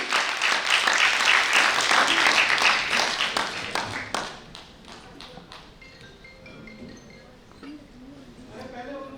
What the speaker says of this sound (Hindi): आपकी जोरदार तालियों के बीच गजेंद्र सोलंकी।